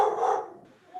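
One dog gives a short, loud bark up close in a home, and it quickly fades into quiet without any voices over it.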